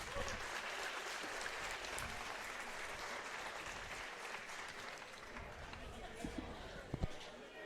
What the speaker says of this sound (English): Let's give a round of applause to Mr. Wyatt Collins.